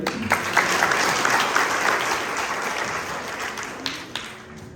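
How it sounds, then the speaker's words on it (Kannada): Loud audience applause at a live musical quiz show, a dense burst of clapping from a crowd that holds strong and then slowly tapers over a few seconds, with no talk over it. "ಜಟ್ಟು ಜೋರಾದ ಚಪ್ಪಾಳೆ ಬರಲಿ"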